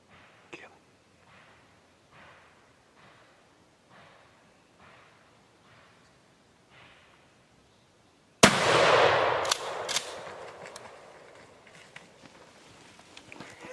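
A turkey hunter's shotgun fires a single loud, close blast that rings out and decays into a long tail, following a stretch of quiet, faint rustling steps.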